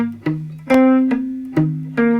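Electric guitar picks out a riff, single sustained notes struck one after another at a slow, steady pace with a ringing tone and no voices.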